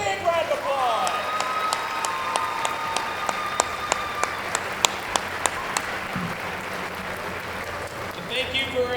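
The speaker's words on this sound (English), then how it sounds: "Give them a big round of applause" Applause for high school senior award winners rises from an audience at a senior night ceremony, a sustained crowd clapping with a few sharp louder claps, while tonal sounds and brief voices mix in.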